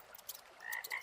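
A frog gives a brief croak, a short high rasping call that repeats quickly, close and faint.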